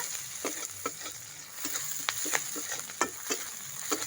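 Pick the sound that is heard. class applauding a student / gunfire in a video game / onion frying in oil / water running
onion frying in oil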